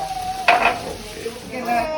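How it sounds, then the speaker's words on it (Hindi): Poha tempering of capsicum, onion and potato fries in a pan with a soft, steady sizzle, broken by a brief clatter of stirring against the pan, close and quiet. "इसमें डाला है शिमला मिर्च, प्याज, आलू, तड़का पड़ा है"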